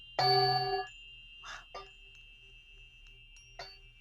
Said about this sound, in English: These are bells, and they turn them upside down and they become bowls.